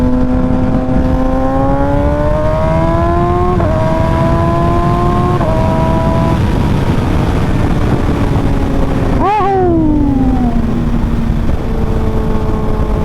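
Kawasaki Ninja ZX-6R motorcycle engine revving loud and close during an overtaking pass, harmonic engine tones stepping through rising gear pulls, with a sharp pitch swoop near the end as another vehicle goes by, under steady wind roar.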